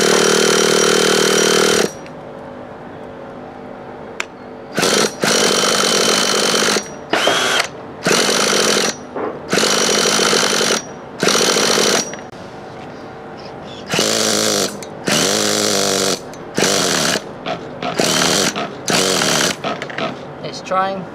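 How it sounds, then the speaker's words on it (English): A miniature drag bike engine cranks in repeated harsh, buzzing bursts broken by short pauses, loud and close, sputtering as it tries to fire and run. Speech can be heard between the bursts. "And just start the engine."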